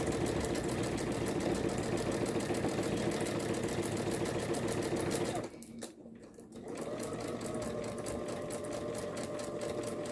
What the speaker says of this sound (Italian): mi muovo con una cucitura con il punto dritto proprio su questa parte piatta del velcro